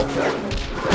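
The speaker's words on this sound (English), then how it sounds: "It looks like he's got a bunch of wolves in his house." Wolves in The Legend of Zelda: Twilight Princess HD, in the Snowpeak Ruins, give a short burst of close, loud barking and yipping amid in-game noise.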